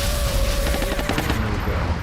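Plasma pistol shots in the game XCOM, a dense rapid burst of crackling, buzzing fire that keeps up steadily at high level for a couple of seconds.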